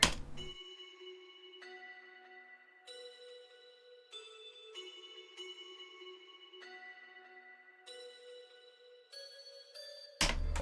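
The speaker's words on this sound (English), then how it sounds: "the next sound I've added is a bell" A soft synthesized bell plays a slow, simple looping melody of sustained ringing notes, each tone held and decaying gently, quiet and alone with no voices, as a sad ambient beat element.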